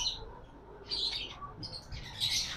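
Caged birds at a bird seller's shop chirp and tweet in short, bright bursts, fairly faint over a low background hum, with no talk.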